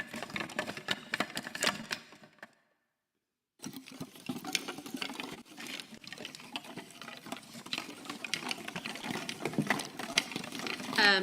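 Stick samples in a live coding set, played louder and faster so they blur into a rain-like hiss of rapid clicks and patter. The sound runs continuously except for one brief silent gap early on.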